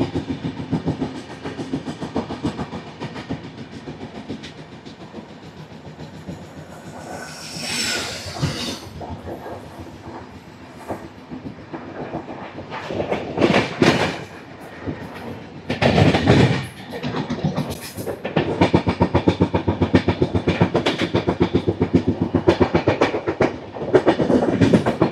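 Intercity Express 12757, Secunderabad to Sirpur Kaghaznagar, runs at speed with steady rumbling and clickety-clack wheel beats. Loud surges and bursts of rail noise rise and fall over the run, heard from on board.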